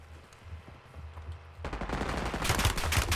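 Quiet rumble at first, then rapid automatic gunfire bursts in and grows louder, continuous and fairly close, with no talking, in the video game Call of Duty: Warzone on the Verdansk map.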